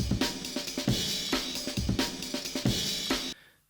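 Drum loop: crisp breakbeat of kick, snare and ride/cymbal hits in a fast syncopated pattern, loud and close, cutting off abruptly near the end with no talk.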